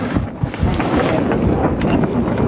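Wind blowing hard across a sailboat running with its sails set wide like butterfly wings, a constant loud rushing roar with buffeting gusts and rumbling water, no voices.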